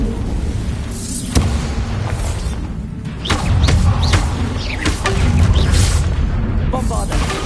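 Repeated magical explosions from the Bombarda blasting spell in Hogwarts Legacy, set in a haunted Hogsmeade shop, booming in several bursts over a dense, continuous mix of game sounds and music, with a voice speaking at points.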